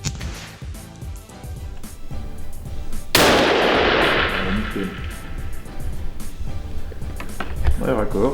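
A single rifle shot fired through a sound moderator: one sharp, loud crack about a third of the way in with a long decaying tail over steady background noise.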